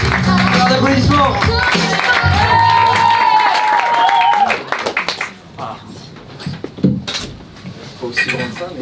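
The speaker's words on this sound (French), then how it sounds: "Applaudissements." Audience at a stand-up comedy show breaking into loud applause, cheers and shouts, dense for several seconds before thinning into scattered claps and voices.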